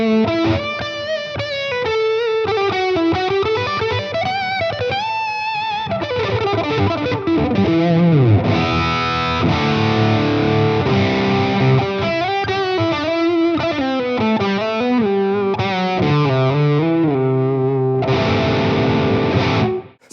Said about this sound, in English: I'm going to pump on this delverb, so the reverb side and the delay